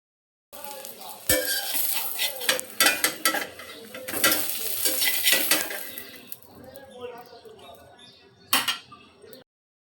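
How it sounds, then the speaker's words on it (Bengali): Eggs fry in a pan while a metal utensil stirs and scrapes them, giving repeated clinks and clatters over a soft sizzle that grows quieter toward the end. "এভাবে সবগুলো ডিম আমি ভেজে নেব।"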